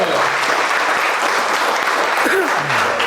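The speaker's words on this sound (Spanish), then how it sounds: "Y yo quiero un fuerte aplauso para esos 3 campeones." An audience gives steady, dense applause throughout the clip, loud and sustained, with faint voices mixed into the clapping.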